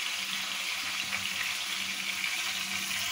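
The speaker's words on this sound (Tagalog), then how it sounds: "nagpainit po tayo ng mantika para po iprito ang tilapia" Tilapia fries in hot oil, giving a steady, even sizzle with a soft crackle all through, fairly quiet and close, with no talk.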